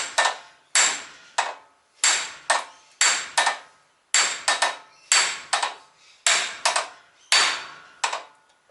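A hammer drives a wheel hub into the steering knuckle of a Mazda CX-7 in a garage, done without a press. About fifteen sharp metallic strikes land in irregular pairs and singles, close and ringing, with no talking.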